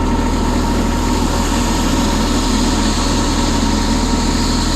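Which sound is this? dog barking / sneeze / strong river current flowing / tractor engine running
tractor engine running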